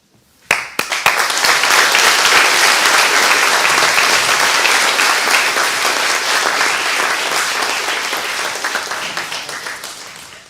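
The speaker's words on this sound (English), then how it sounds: "then we'll give them a big round of applause." A school speech day audience breaks into loud, dense applause after a single sharp clap, holding strong for several seconds and slowly fading toward the end.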